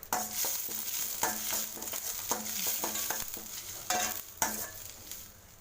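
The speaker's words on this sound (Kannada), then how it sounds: "ಒಂದ್ಸಲ ತಿರ್ಸ್ಕೋಬೇಕು ಇದನ್ನೆಲ್ಲ" Ginger, garlic, onion, curry leaves, mustard seeds and cumin frying in a pan give a steady close sizzle, broken by repeated scraping strokes of a spoon stirring the mixture, with no talking.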